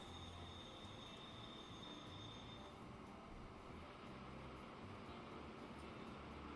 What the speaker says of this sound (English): Let's run this and see if I can just get this train out of my way